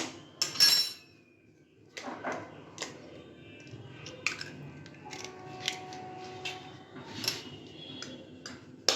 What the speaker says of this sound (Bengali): ততক্ষণ এখানে আমি ডিম 2টো ফাটিয়ে নিচ্ছি